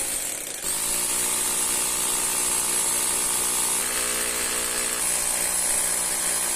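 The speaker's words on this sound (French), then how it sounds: "j'ai mis une mèche de 10 mm sur ma foreuse et je peux commencer alors à faire les trous" An electric drill with a 10 mm bit boring holes for wall anchors while a TV wall bracket is mounted. A steady, loud, continuous whine starts after a brief pause and runs unbroken to the end, with no talking.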